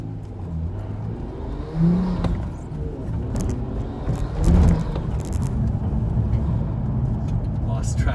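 A Nissan Skyline R34 four-door with a turbo engine accelerates through its gears, the engine note rising and dropping with each shift while someone talks over the drive.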